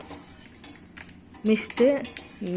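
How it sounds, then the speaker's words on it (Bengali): A spoon stirs milk mixed with a packet of Amul milk in a pot while making dudh gokul pithe, giving a few metallic clinks and scrapes that grow louder in the second half, with a voice briefly heard. "মিশিয়ে এবার নেড়ে নেড়ে ফুটতে দেব।"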